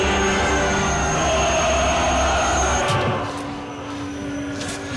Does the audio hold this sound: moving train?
yes